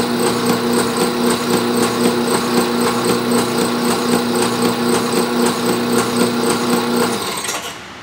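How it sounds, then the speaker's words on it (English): A shock dyno runs a test cycle on a racing shock, a loud, steady mechanical hum with rapid rhythmic pulsing that holds evenly for about seven seconds, then winds down and stops. "Okay, so I've gone ahead and started the dyno."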